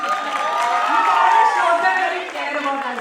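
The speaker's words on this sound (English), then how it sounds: "A round of applause for Fatima Rodriguez." A school audience applauds and cheers in a hall, a steady wash of crowd noise with voices and whoops mixed through it for a few seconds.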